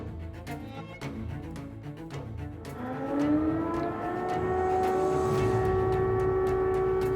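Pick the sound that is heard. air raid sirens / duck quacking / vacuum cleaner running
air raid sirens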